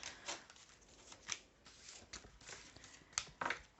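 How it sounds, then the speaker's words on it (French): Tarot cards being gathered up off a table in a run of soft shuffling, sliding rustles and light taps, close and quiet, with no voices. "Il faut juste que j'enlève toutes les cartes."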